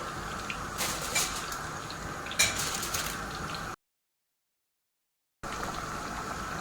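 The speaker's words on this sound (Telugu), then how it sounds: "చూసేయండి బాగా ఉడుకుతుంది కదా" Vegetables boiling in a pot for a keema ball curry, with steady bubbling and gurgling, a couple of louder splashy surges, then a short stretch of total silence before the bubbling returns.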